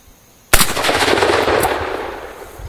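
An M1 Garand rifle fires a single .30-06 round at a bowling pin on an outdoor range, one sharp loud crack with a long rolling echo trailing off.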